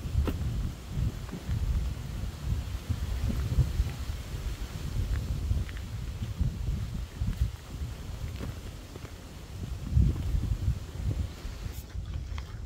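Steady wind rushes and buffets in the woods with low gusty rumble, continuous and fairly close, no voices.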